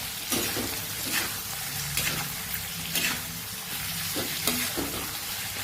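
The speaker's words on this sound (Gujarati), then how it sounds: "લસણ ને એ આદુ ને બધું કાચું ન રહે એટલા માટે એને સરસ આપણે સાતળી લેવાનું છે બટેકા સાથે." Garlic, ginger and raw potatoes sauté in a pan with a soft sizzle, broken by repeated spatula scrapes and knocks at a loose, regular rhythm.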